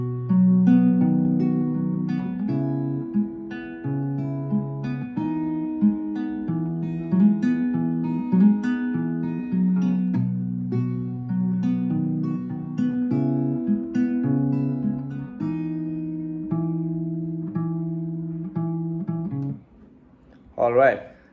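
Played on guitar, the intro of a song rolls out as a gentle fingerpicked melody over low chords, close and steady for about twenty seconds before a brief strum and a short scrape at the end.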